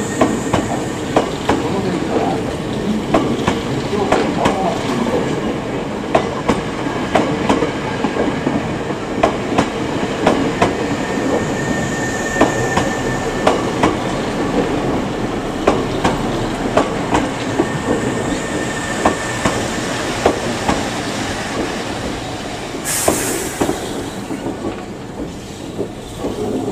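A Hankyu 9300 series train bound for Kyoto-kawaramachi rolls into Katsura Station, Japan, with steady rumbling and rhythmic clacking of wheels over rail joints, a brief high squeal near the end.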